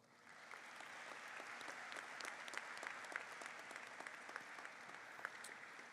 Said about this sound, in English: show your appreciation for all their support by giving them a round of applause